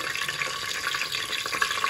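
Whole spices such as bay leaf and broken cinnamon stick crackle and sizzle in hot oil for a veg dum biryani, a close, steady hiss with faint stirring and no talking.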